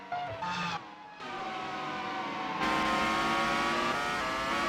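Formula One race cars in GP4 (2003 season, Italy) scream past at high revs, several engines whining and climbing in pitch together, loud and continuous.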